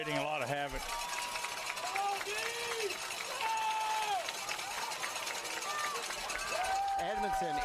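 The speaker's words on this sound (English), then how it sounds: "the Boyd crowd gets loud just beneath us" A high school football crowd at Boyd Buchanan rises into a steady loud roar throughout. A commentator talks over it from nearby.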